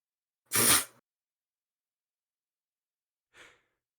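A single sharp sneeze bursts out, followed a few seconds later by a brief, faint breathy exhale; quiet silence otherwise.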